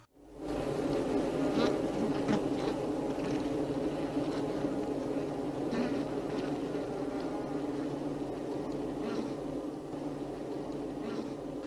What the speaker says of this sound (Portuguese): Impacientemente as abelhas esforçam-se para entrar na colmeia